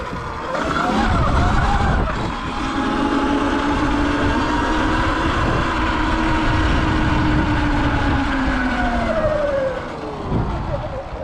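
A Sur Ron X electric dirt bike being ridden: a steady, loud high-pitched electric motor whine that rises and falls in pitch, over continuous wind and road rumble.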